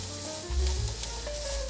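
Green, red and yellow bell peppers stir-fry in olive oil in a pot, giving a steady close sizzle with soft stirring scrapes and no talk.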